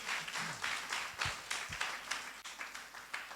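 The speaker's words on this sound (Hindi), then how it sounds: "एक बार ताली बजाओ यीशु मसीह के लिए।" A church congregation claps together for Jesus in dense, continuous applause lasting a few seconds, fairly close and without distinct voices.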